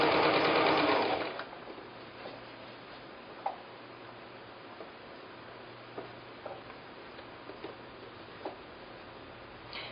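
A sewing machine runs at steady speed stitching a quilt seam for a Bear Tracks block, then stops, followed by faint ticks and fabric handling in a quiet room.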